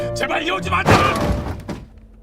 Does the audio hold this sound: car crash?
yes